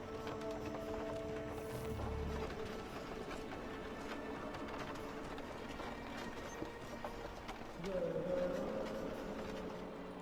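A horse gallops in Assassin's Creed III, with muffled rhythmic hoofbeats under game music and ambient noise throughout.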